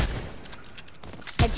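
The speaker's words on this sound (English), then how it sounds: "I'm getting shot." Gunfire in the video game Fortnite, a short scatter of muffled shots followed by a sharp loud burst at the end, with no speech.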